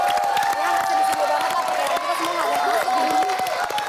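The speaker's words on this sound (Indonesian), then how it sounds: "tepuk tangan dulu" Studio audience on an Indonesian Family 100 game show breaks into sustained applause and cheering, a dense, steady wash of clapping filling the whole stretch with no pauses.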